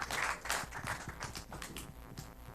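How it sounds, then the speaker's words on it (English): Audience applause for a contestant at an oratory competition: a continuous, moderately distant patter of many hands clapping, fairly faint and steady for a couple of seconds. "A round of applause"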